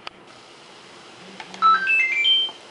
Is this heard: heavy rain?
no